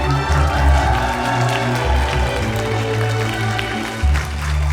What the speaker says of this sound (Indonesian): Tepuk tangan yang sangat meriah untuk Mas Ustadz Wimaraditya